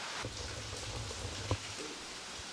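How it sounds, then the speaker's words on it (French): Steady rain patters down in a soft, continuous wash, with one brief knock near the middle and no voices. "Merci, ça pleut, super."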